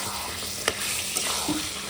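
Goat meat being sautéed in a pan at home, a steady broadband sizzle with a few brief scraping stirs, close and moderately loud with no talking.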